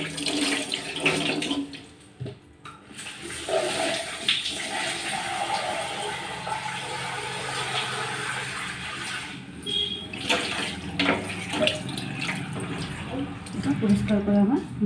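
Water runs and splashes from a tap during washing and cleaning, in uneven surges with brief dips and clatters, while a voice talks over it.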